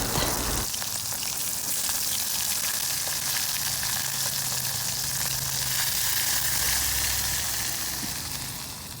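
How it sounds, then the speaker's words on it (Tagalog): Dried salted fish (tuyo), rinsed beforehand, frying in a pan with a steady dense crackling sizzle that holds close and even throughout and fades slightly at the end. No voices. "So, sunod nating lutuin ay ang tuyo."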